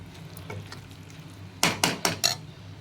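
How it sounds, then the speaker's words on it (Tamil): A spoon scrapes and taps in a pan while ground coconut and masala are sautéed for vegetable biryani, soft stirring followed by four sharp, close metallic knocks, with no talking. "இப்போ தேங்காய் அரைச்சிருக்கிறதையும் இதில் ஊற்றிக்கலாம். அதையும் போட்டு நல்லா வதக்கிக்கலாம்."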